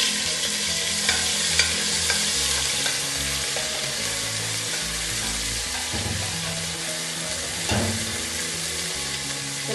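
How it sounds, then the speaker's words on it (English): Onion frying in hot olive oil in a pan while cooking domoda peanut butter soup, giving a steady, loud, close sizzle throughout with occasional clatter from stirring. "The oil is hot. I'll put in my onion."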